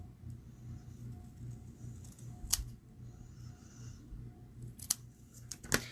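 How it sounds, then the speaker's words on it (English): Scissors trimming paper for a paper pumpkin craft, with a few sharp, brief snips spaced apart over a low steady background hum. "Let me just trim that a little bit more."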